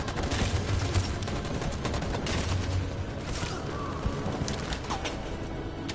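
Gunfire in Detroit: Become Human, with sporadic shots cracking through a dense, steady wash of battle ambience, with no voices.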